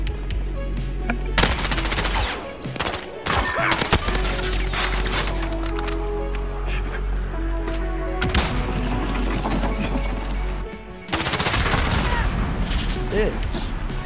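Gunfire in the video game Call of Duty: Modern Warfare, sniper-only mode: repeated loud gunshots and bursts of rapid fire with booms, while players talk over the action.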